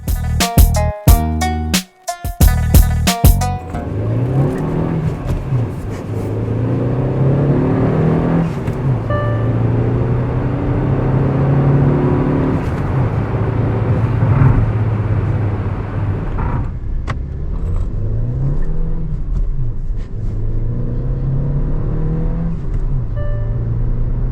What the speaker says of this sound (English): this is my first time ever driving the newer style of Hyundai Verna